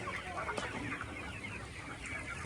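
Chicks and hens on a desi poultry farm chirp and cluck faintly in a busy, overlapping chorus, with one sharp tap partway through.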